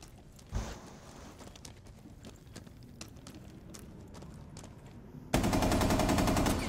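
Gunfire from Rainbow Six Siege: a single sharp shot early, then scattered faint distant reports, before a sudden loud sustained burst of rapid automatic fire close up at the end.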